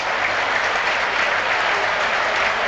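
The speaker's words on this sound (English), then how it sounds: "The Etihad stands to applaud and salute Ilkay Gundogan, back at the club on a one-year deal" Football crowd at Etihad Stadium during a Premier League match, Manchester City against Ipswich Town, applauding in a dense, continuous roar of clapping, loud and even throughout the short stretch.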